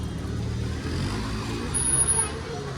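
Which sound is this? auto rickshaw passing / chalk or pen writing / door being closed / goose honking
auto rickshaw passing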